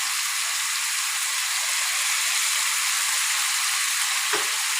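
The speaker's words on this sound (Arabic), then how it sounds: "شوح الفراخ يا حبايبي اهو" Chicken pieces sizzling and frying in a pan with spices, a steady close hiss of hot oil running throughout with a brief stir near the end.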